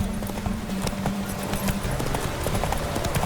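Horse galloping hard in a race in The Witcher 3, with rapid, steady clip-clop hoofbeats at close range throughout.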